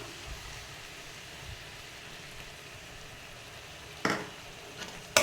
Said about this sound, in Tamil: எண்ணெய் சேர்த்து இந்த எண்ணெயிலே இது நல்லா இந்த மசாலாவோடு சேர்ந்து இந்த எண்ணெயோடு சேர்ந்து இது வறுத்துக்கலாம்